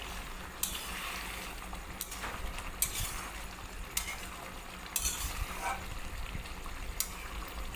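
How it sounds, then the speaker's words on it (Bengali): Katla fish pieces are gently turned in a simmering ground-mustard gravy, a soft low bubbling with a handful of quiet, spaced spoon strokes. "হালকা হাতে একটু নাড়াচাড়া করতে হবে"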